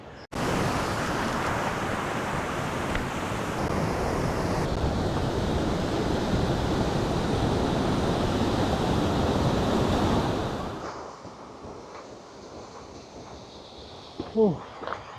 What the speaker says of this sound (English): a thundering waterfall that crashes down beneath your feet